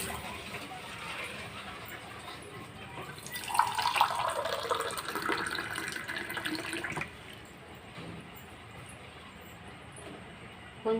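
Water pours from a tap or vessel into a container holding curry leaf chutney ingredients, a rushing splash that swells in the middle and then stops abruptly, leaving quiet room tone.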